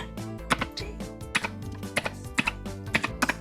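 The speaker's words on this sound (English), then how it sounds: "This is called a blue keyboard. So each color has a different noise, but the keys are blue keys." Rapid clicky keystrokes on a mechanical keyboard with blue switches, a close, crisp series of irregular taps in quick bursts, heard alone.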